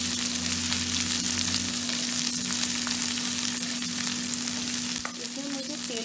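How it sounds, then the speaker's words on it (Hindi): Soybean chilli with large pieces of capsicum and onion frying in a pan, a close, continuous sizzle with scattered crackles and a steady low hum under it, then a brief clink of utensil. "इसे अच्छे से भूनेंगे।"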